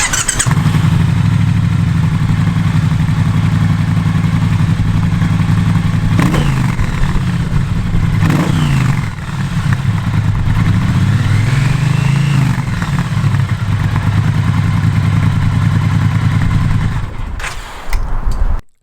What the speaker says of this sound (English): let's hear the start up and get some of the sound from those beautiful exhausts